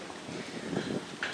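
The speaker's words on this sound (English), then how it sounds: "Sorry about the wind, it's a little bit breezy today." Breezy outdoor wind buffets the microphone on the second story of a fire training tower, a steady broadband rush with gusty swells and no clear voices.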